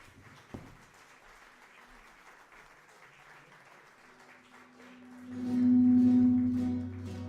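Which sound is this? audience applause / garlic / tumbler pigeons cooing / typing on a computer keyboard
audience applause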